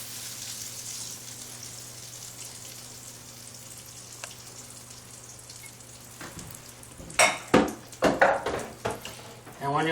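Butter sizzles in a frying pan for an omelette with a steady, soft hiss, then louder crackling bursts and scraping stir sounds come near the end.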